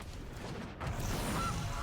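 A game sound effect of a goose honking in Magic the Gathering Arena, a brief nasal honk rising over a low hum of background game audio.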